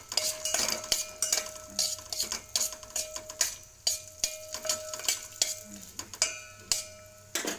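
A spoon stirs ingredients frying in ghee in a pan, giving repeated scraping clinks against the metal in an uneven rhythm over a soft background sizzle, close and clear.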